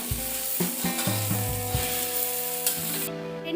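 Okra frying in a pan with added sugar, a steady close sizzle broken by several sharp knocks and scrapes of a spatula stirring, ending in a brief louder clatter, with no speech.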